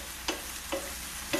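Liver cooks in a pan, a soft steady sizzle of frying with three brief scraping stirs spaced across the short stretch.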